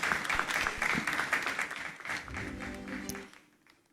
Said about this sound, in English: Shall we do a big round of applause as she makes her way here?